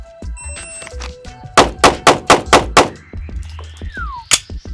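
A Glock pistol with a ported barrel fires a rapid string of about seven loud, sharp shots outdoors, evenly spaced, followed by a few more distant or softer reports.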